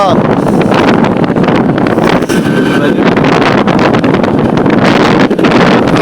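A windstorm sweeps through Islamabad, loud gusting wind roaring and buffeting the microphone continuously, with a constant rushing noise that barely lets up.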